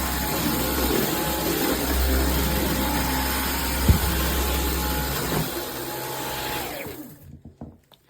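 A Dyson V15 Detect cordless vacuum cleaner runs with a steady high-pitched motor whine and airflow rush, close and loud, then powers down, its pitch falling away into near silence with a few faint clicks.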